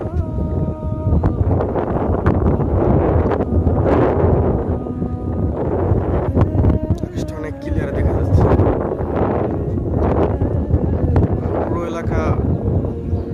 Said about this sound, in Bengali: এখানে অনেকটা বাতাস দাঁড়িয়ে থাকাই কষ্টকর